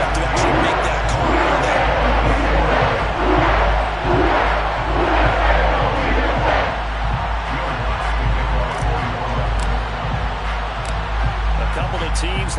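A home crowd at a Madden 23 American football game roars in a steady, loud wash of cheering and shouting during overtime, with a commentator talking over it.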